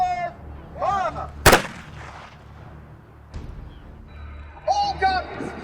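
A historical cannon firing at a reenactment history festival, one sharp, loud blast that booms out briefly amid commands, with people talking before and after.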